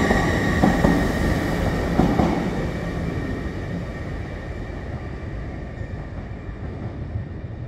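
TransPennine Express class 802 train running through Preston station, a loud rumble and wheel noise with a sustained tonal whine, steady and close, easing slightly as it continues.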